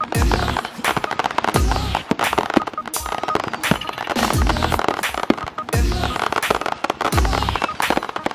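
Fireworks burst at night in rapid crackling volleys with repeated deeper booms, loud and continuous throughout, with no voices.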